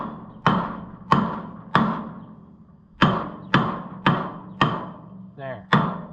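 Slide hammer blows striking a wheel on an Oliver 70 tractor during wheel removal: about eight sharp, loud metallic impacts in an uneven rhythm, close up, each ringing briefly before fading.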